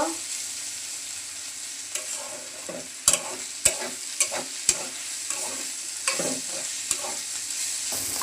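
Potato and bitter gourd bhaji frying in a pan, a constant soft sizzle broken by several sharp spatula scrapes and taps against the metal, close up with no talking.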